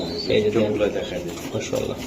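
Budapest pigeons, a pair of young birds at a breeding farm stall, give soft repeated cooing close by while someone talks over them throughout.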